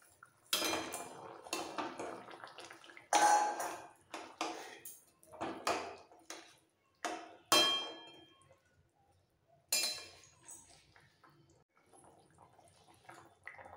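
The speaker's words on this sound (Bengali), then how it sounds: "এবার ভেজে রাখা মাছগুলো দিয়ে দিচ্ছি।" Fried tangra fish go into a simmering curry pot, with a spoon clanking against the metal pot in irregular bursts, clear and close, then fading to quieter scraping and light bubbling.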